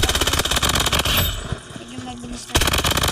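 Rapid automatic gunfire from a first-person shooter video game rattles loudly in dense bursts, pauses briefly, then resumes with more rapid shots.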